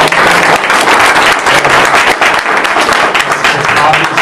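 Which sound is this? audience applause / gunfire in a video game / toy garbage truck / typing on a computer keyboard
audience applause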